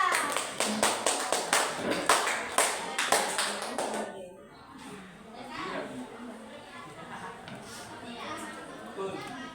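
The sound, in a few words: applause for group 2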